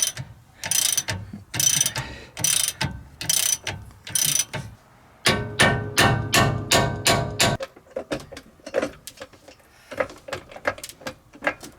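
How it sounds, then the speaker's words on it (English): A large ratchet wrench turns suspension bolts on a Ford F-150 during a twin I-beam to twin traction beam swap, giving rapid bursts of loud metallic clicking in short repeated strokes with brief pauses between them. "I need to get a big ratchet"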